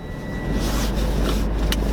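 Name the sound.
car driving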